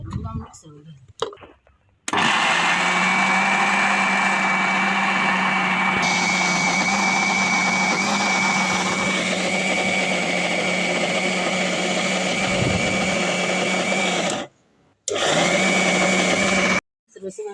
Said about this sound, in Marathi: आता मिक्सरवर काढून घ्यायचं